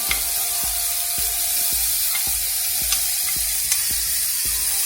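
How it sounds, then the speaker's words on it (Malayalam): Green chili, drumstick, potato and tomato sauté in a pan for a Kerala egg theeyal, with a continuous close sizzle and regular scraping stirs about twice a second. "ഇത് നന്നായിട്ടൊന്ന് വഴറ്റിയെടുക്കാം."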